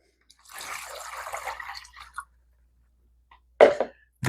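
Two cups of water poured into a bowl for a chicken wing brine: a steady splashing pour of about two seconds, then a short, louder splash a moment later, close by with no talking.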